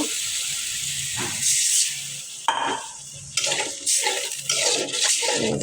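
Spiced fish frying in a pan sizzles and hisses after a little water is added, with bursts of stirring and scraping breaking up the steady close sizzle.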